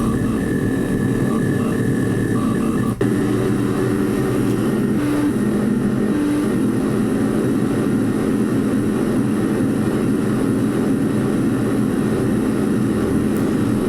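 A dense, droning wall of tape-loop noise music, steady and loud, with rumbling low tones and faint shifting tonal fragments throughout.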